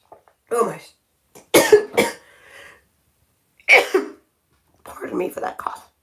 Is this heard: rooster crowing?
no